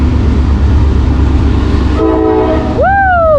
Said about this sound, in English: Alright, another Norfolk Southern. Second westbound train of the day, no eastbound.